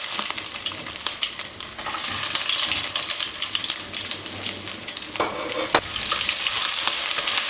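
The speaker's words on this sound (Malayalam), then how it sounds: "നമുക്കിതിലേക്ക് ചതച്ച് വെച്ചിരിക്കുന്ന ഇഞ്ചി ചേർക്കാം." Crushed ginger and round-cut onion frying with mustard seeds in a pan for a Kerala-style dry fish coconut curry, giving a loud, continuous sizzle with occasional stirring scrapes and taps close by.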